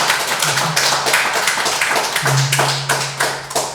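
Audience in a Korean church lecture hall on Acts claps together in a loud, sustained burst of many hands with a low tone humming underneath.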